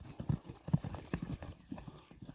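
Horse hooves clip-clopping in a quick, uneven rhythm on the ground as a black Kyrgyz horse is ridden, fairly near and moderately loud, with faint breathy movement between strikes and no clear talk.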